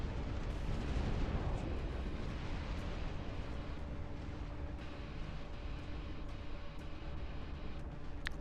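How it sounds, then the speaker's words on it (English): Battle in the RTS game Dust Front: sustained gunfire and explosions merge into a thick, roaring barrage with scattered sharper pops, loud and unbroken for the whole stretch. "everyone is shooting"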